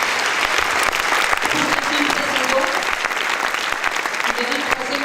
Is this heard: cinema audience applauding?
yes